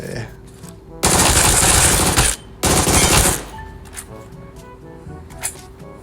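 Rapid automatic gunfire rings out while test-shooting in the video game PUBG Mobile, in two loud sustained bursts of about a second each, followed by quieter scattered clicks and game sounds.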